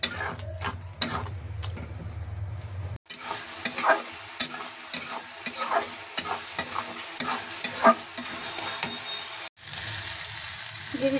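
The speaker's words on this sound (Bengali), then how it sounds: "এখন আমি মশলাটা ভালোভাবে ভেজে নেব।" Spices including turmeric and Kashmiri red chili powder frying in a pan for a green peas curry, a close sizzle with many clicking, scraping stirs of a spatula, briefly interrupted by cuts, no speech.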